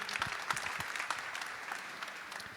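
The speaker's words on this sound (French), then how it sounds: "On les applaudit très fort" Audience at an industry awards ceremony claps warmly, a moderately close burst of steady applause with a few sharper individual claps standing out, tapering slightly at the end.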